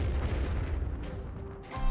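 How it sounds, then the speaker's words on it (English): Explosions in the video game Gravity Rush, a series of booming bursts and pops over a continuous rumbling game soundscape, with a sharper blast near the end. "Sid, I saw the explosions. What's going on?"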